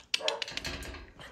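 A young doodle dog barks and whimpers indoors in short, close bursts of yips and whines.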